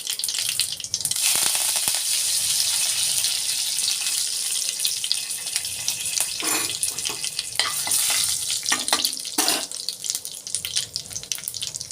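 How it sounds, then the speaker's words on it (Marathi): Mustard seeds, cumin and curry leaves sizzling in hot oil, a loud, continuous hiss with crackling and scattered pops, plus a few stirring knocks toward the end. "मोहरी तडतडली आहे, तर आपण आज जिरं घालूया। त्यात कढीपत्ता आहे, तो घालू।"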